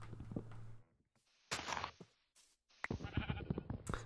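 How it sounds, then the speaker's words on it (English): Minecraft sheep bleating in short, separate calls, several bursts with quiet gaps between them, fairly close and clear. "I hear there are sheeps around"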